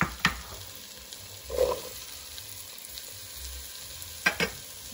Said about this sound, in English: I just have to make sure that the apples are coated with the butter